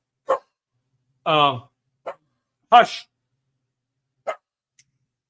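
A pet dog at home barks a few sharp, close woofs spaced over several seconds, with someone briefly speaking to it between barks.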